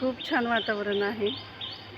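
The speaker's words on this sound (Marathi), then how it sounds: "पक्षी पण खूप छान ओरडत आहेत बघा तुम्हाला आवाज पण येईल" Birds chirp and call in the background with short, bright tweets while someone speaks calmly over them outdoors.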